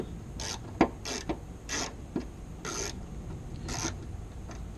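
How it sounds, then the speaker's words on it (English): A tool turned by hand scrapes and rasps away metal inside the hole of a snapped bolt, making repeated gritty bursts of filing with a few sharp clicks, close and fairly quiet with no talking. "I can use it to kind of cut away some of the metal that's in there so that maybe I can expose some of the threads"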